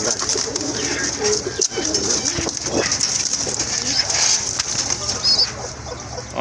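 Pigeons coo amid a busy pigeon market setting, with low continuous birdsong and murmuring under constant background noise and people talking nearby.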